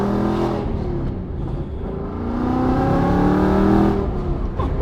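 A Shelby Mustang GT500 engine revs in a 2020 setting, a deep, loud, close rumble that swells and surges steadily without talk.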